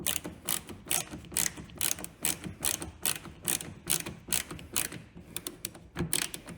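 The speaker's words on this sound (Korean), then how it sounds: "마무리로 나사 다시 박아 주시면 되고요." Screws being driven back into the chrome mirror trim of a Hyundai Avante CN7, a quick ratcheting, clicking mechanical rhythm in repeated close bursts with no talking.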